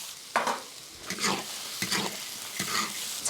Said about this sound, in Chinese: 现在炒蒜蓉哈，炒个蒜蓉的